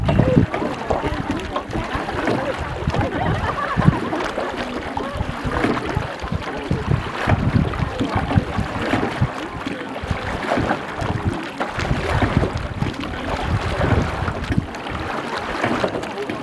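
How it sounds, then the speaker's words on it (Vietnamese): A rowboat's motor runs steadily under continuous splashing water and wind noise on the river at Tràng An, Ninh Bình, Vietnam, with a rough, churning texture throughout. "nghe tiếng máy chèo cua rất là đẹp"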